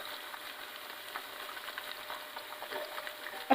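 Cumin seeds and salt dropped into hot oil for a butter chicken kadai give a soft, steady sizzle with small scattered crackles that stays faint throughout.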